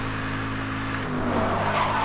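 A car slides sideways in the Need for Speed: Hot Pursuit (2010) video game, with a steady engine drone and a tire squeal that shifts in pitch partway through the brief moment.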